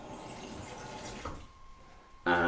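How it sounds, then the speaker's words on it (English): Water runs from a tap into a pan for poached eggs, a steady faint hiss and splash that cuts off partway, followed by a brief louder clatter at the end. "I'll put a little bit of water in the bottom"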